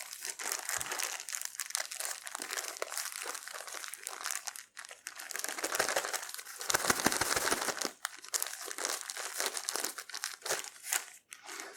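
Half-frozen dandelion flowers handled in plastic straining bags give steady, close crinkling and rustling with crunchy crumples, continuous throughout and loudest in the middle stretch.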